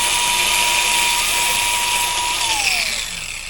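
A power tool grinding a snowmobile brake caliper pin, throwing sparks: a loud, steady high-pitched whine whose tone drops near the end as the tool slows.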